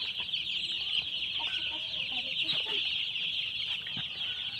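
Broiler chickens on a poultry farm cluck continuously as a dense flock, with scattered individual calls rising over a steady high-pitched chorus and no talk.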